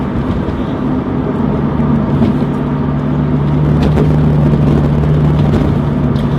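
A 2001 Porsche 996 911 Turbo engine drones at a steady cruise in fourth gear, a smooth low hum with road rumble beneath it, continuous and close, no talking.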